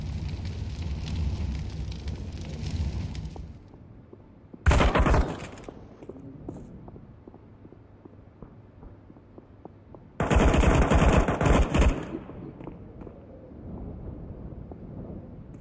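Bursts of automatic gunfire in the video game Counter-Strike 2 on the Vertigo map, two loud volleys separated by quieter stretches of distant shots and game ambience.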